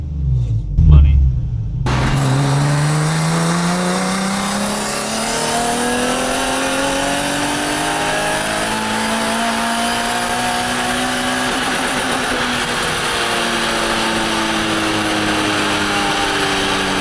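A Nissan 370Z drift car engine revs continuously for the whole stretch, with rising and falling harmonic sweeps of throttle blips heard close and loud after a brief quiet opening.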